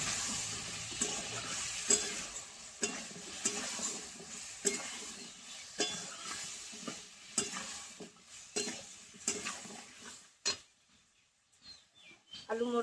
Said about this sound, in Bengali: আলু মটরশুঁটিটা 5 মিনিট ভাজা হোক।